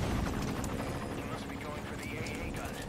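A helicopter in Metal Gear Solid V: Ground Zeroes hovers with a steady, loud rotor thrum and a faint tonal whine, heard close under someone talking throughout.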